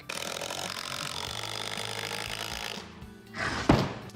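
A power driver sends screws into 2x3 wood framing to reinforce the base of a pallet table, a steady close whirring for about three seconds, then a short pause and one more sharp burst of driving.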